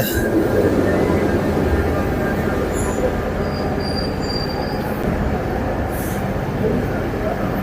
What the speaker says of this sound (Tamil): ட்ரெயின் ட்ரை பண்ணி பார்க்க போகிறோம்